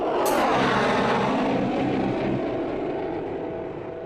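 An F-16 fighter jet flies in wintry Arctic conditions in Alaska, a loud broadband engine roar holding steady and close before slowly fading over about four seconds, with no voices.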